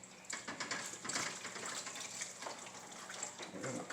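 Beef broth poured into a pan for Swedish meatballs makes a soft, continuous splashing trickle, fairly faint, with a slight swell partway through.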